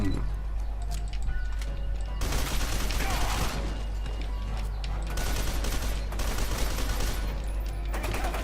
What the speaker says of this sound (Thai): มันยิงกันเองฮะมันยิงกันเองฮะไอพวกนี้